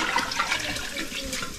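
Warm water is poured into a cooking pot for feijoada in a wooden shed on a farm, a steady, close, rushing gush of liquid that continues without pause.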